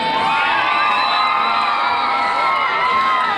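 A large crowd of schoolchildren cheers and screams at a school event, a loud, continuous, high-pitched roar of shouting voices with no breaks.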